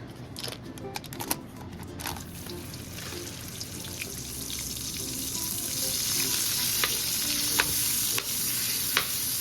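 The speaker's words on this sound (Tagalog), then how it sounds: "Tunawin muna natin itong butter natin bago natin nilagay yung bawang." Butter melting and sizzling in olive oil in a pan before garlic goes in for Cajun shrimp and sausage, a close crackling fry with stirring clatter at the start that grows steadily louder and denser, with no voices.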